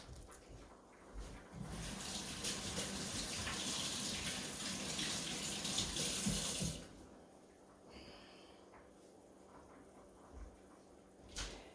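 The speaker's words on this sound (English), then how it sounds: "I'm going to wash my hands" A kitchen tap runs hard for several seconds while hands are washed beneath it, a loud close rush of water that stops abruptly, followed by quiet handling noises.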